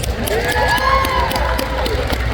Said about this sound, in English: a round of applause for Six